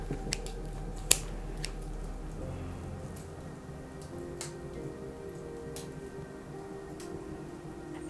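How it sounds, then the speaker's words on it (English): In bookbinding, scissors trim a thread end close to a sewn headband, giving a few faint, sparse clicks and snips over a quiet background with no talk. "I'm gonna cut off the end here as close to the thread as possible without cutting it off"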